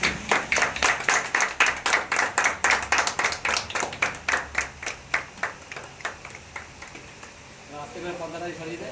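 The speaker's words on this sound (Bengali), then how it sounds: "একটা হাততালি দেন।" An audience applauding at a poster launch event, a burst of rhythmic clapping that gradually thins and fades, with voices talking as it dies away.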